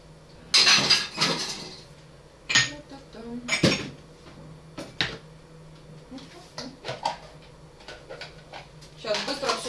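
Dishes, pots and cutlery clatter and clink in a kitchen as a pile of dirty dishes from the day before is cleared up, in irregular bursts of close handling with someone talking over it.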